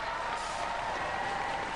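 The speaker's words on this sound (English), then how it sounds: "Give them a round of applause, ladies and gentlemen" Studio audience at a robot combat competition final clapping steadily, a dense, even wash of applause under a faint tone, fairly distant and moderate in level.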